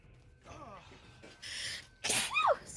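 A sneeze bursts out near the end of a tabletop roleplaying game session, a sharp loud blast preceded by some murmured voice and breathy sounds.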